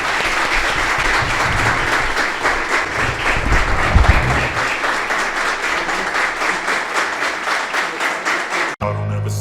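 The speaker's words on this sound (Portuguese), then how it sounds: "Aplausos aí ao Padre Jean." Sustained applause from a large crowd, dense continuous clapping at steady loudness for several seconds, cutting off abruptly near the end.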